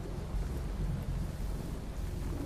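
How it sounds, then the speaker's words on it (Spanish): Wind-driven rain storm with thunder, a dense steady roar of rain and gusting wind with deep low rumbling throughout, loud and continuous with no voices. "con el sonido del viento y con una lluvia que se dejaba venir."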